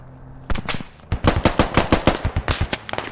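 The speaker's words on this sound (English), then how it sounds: "Getting sniped at from the right side somewhere" Rapid bursts of gunfire in the video game Squad, the player under sniper fire from one side: sharp cracks in quick irregular volleys, loud and close, with brief pauses between strings of shots.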